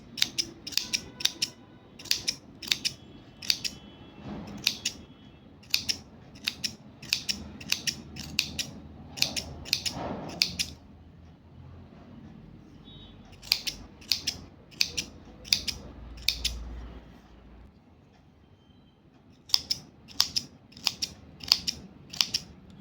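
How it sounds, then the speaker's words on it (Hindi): Scissors trimming a woolen pom-pom for a small knitted cap, with rapid bursts of crisp snipping in quick rhythmic runs separated by short pauses, close and clear with no speech. "अगर आपको बड़ा पॉम-पॉम चाहिए तो इसे ज़्यादा ना काटें।"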